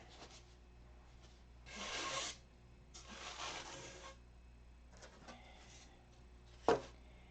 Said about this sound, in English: this is your last chance to sand this sheeting